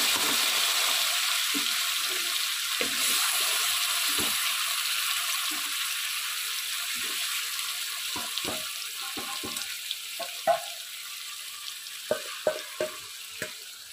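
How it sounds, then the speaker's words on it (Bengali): Hilsa fish pieces go one by one into hot mustard oil with fried nigella seeds, giving a steady soft sizzle and hiss with occasional clinks of a utensil against the pan. "এখন এর মধ্যে মাছগুলো একে একে দিয়ে দেব।"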